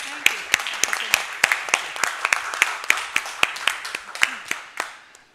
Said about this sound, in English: I will also give you another round of applause for the Polish presidency